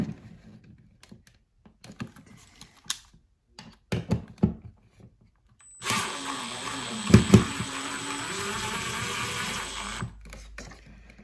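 After some scattered clicks and handling noises, a power drill whirs steadily for several seconds, briefly bogging down as it drives a screw, then stops.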